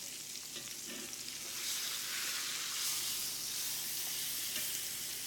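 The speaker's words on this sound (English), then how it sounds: "Now that the steaks have been cooking on this first side for 5 minutes, we'll flip them." Steaks freshly flipped in a hot pan sizzle with a steady close hiss that swells slightly partway through, with no talking.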